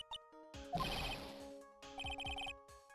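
Cell phone ringtone in the Ace Attorney: Justice For All video game: bright electronic ringing in two short bursts separated by a brief pause, clear and alone.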